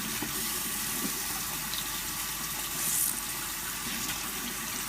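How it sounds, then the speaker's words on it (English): Steady hiss of tap water running into a sink while a beauty blender sponge is rinsed of soapy residue, close and continuous with a slight swell near the middle, no talking. "I'm just gonna put a little bit more water because it still kind of had a little soapy residue on there"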